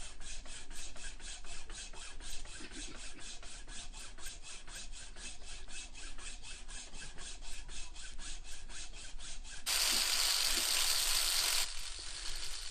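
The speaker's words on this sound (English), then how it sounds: "for the slot of the band, I reverted back to the old technique of a hacksaw" A hacksaw cuts a slot in a metal part for a Victorian tricycle, its blade rasping in quick, even back-and-forth strokes, close up and continuous, with a harsher, brighter scrape near the end.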